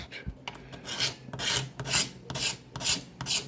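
A file rasps over the curved cranium of a 3D printed Terminator bust to smooth away layer lines: rhythmic scraping strokes, about seven in a row, close and crisp, with brief pauses between each pass.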